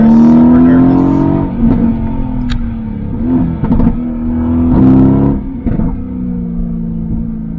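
A 2016 Mercedes-AMG GT S engine drones loudly from inside the cabin while driving, its deep rumble rising and falling with throttle, a few sharper blips and shifts breaking the steady roar.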